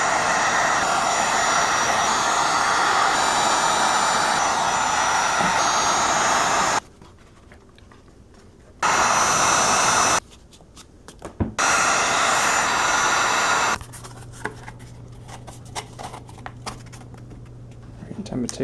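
A heat gun roars loudly while heating a plastic case to bend it, running for about seven seconds, cutting out, then returning in short bursts before stopping, leaving a quiet hum.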